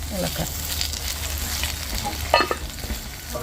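A spoon stirs roasted coconut into a sweet erissery mixture in a hot pan, giving a steady sizzle with scraping, clattering strokes close by and a brief louder knock near the end.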